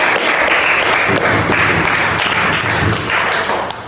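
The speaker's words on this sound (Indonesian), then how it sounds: "Tepuk tangan untuk kelompoknya" Classroom applause for a group of students, a steady dense patter of many hands clapping close by, continuous for several seconds with a faint voice underneath.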